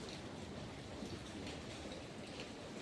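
A heavy rain shower pours over a housing society with water pooling in front of the homes, a steady, faint, unbroken wash of falling drops with no voices.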